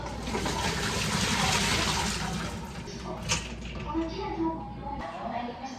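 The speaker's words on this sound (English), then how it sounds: "I'm gonna strain them out, then dump them in some ice water." Water pours and splashes steadily for a couple of seconds as boiled vegetables are strained, then trickles off as a voice speaks nearby.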